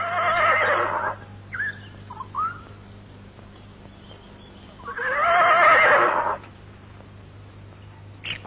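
Two loud horse whinnies, each about a second long, ring out several seconds apart in an old 1975 Indonesian comedy film, with a few faint squeals between them and no talk.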